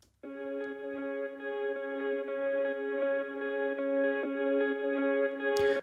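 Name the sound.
quiet ambient guitar layer with steady notes, Bias effects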